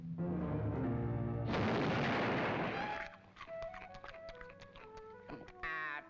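A loud cartoon gunshot blast aimed at a rabbit bursts out in a dense roar lasting over a second, then fades into jaunty orchestral music with scattered plucked notes and a brief whistling flourish at the end.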